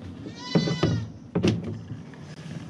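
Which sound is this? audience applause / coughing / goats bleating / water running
goats bleating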